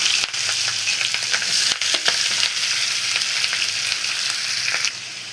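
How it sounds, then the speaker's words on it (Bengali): Onion, green chili and spices frying in hot oil left from fried tengra fish, a loud steady sizzle close up with occasional clicks of stirring, no voices. "ওই তেলের মধ্যে এখন পেঁয়াজ আর সমস্ত মশলা দিয়ে কাঁচামরিচ পেঁয়াজ দিয়ে দিলাম।"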